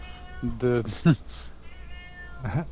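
A cat meows several times, short nasal cries near the microphone, with a quieter one after a pause, while people talk faintly in the background.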